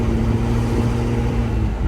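A 1965 Impala engine running steadily with a low, rumbling tone, revved on the gas with a slight hesitation, close and continuous for the full two seconds.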